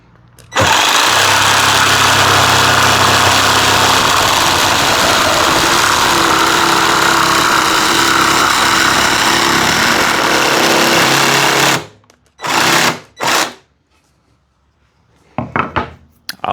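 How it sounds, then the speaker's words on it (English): A Seesii cordless jigsaw cuts loudly and continuously for about eleven seconds, then fires in a few short bursts separated by near silence. "That's the Seesii Cordless Jigsaw."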